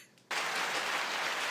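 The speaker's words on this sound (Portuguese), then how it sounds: "Aplausos para o Vitor." A burst of audience applause welcoming a guest on a podcast, starting suddenly after a short quiet moment and continuing as an even, hissing wash of many clapping hands.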